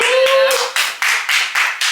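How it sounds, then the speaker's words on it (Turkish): A small group on a trip to Rimini claps in a rhythmic, loud pattern of about six evenly spaced beats close by, with a brief voice at the start. "Bir alkış alalım"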